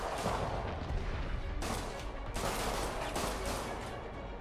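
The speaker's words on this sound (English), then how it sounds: "Who are they shooting at?" Sustained dense gunfire rattles through a Spider-Man video game scene, a continuous loud barrage of overlapping shots with sharper bursts swelling in, no voices over it.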